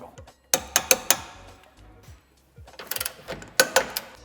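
Torque wrench tightening the lower tow hitch bolt to 51 Nm on a 2020-2025 Citroën C4 III, giving a few quick ratcheting clicks in two bursts, close and fairly loud.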